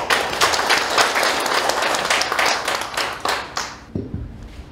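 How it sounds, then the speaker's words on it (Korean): An audience at a veterans' association hall in Seongnam applauds to welcome the next speaker, a dense burst of many hands with some distinct nearby claps, tapering off near the end. "큰 박수로 맞으시기 바랍니다"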